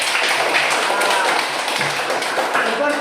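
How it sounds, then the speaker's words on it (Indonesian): A classroom of Indonesian students claps for a classmate, a dense, steady patter of many hands that fills the room throughout, with a voice speaking faintly underneath. "Bagus, tepuk tangan"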